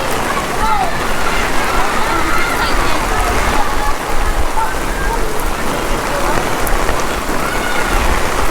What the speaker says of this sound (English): And this rain is, it's not warm, but it's not cold.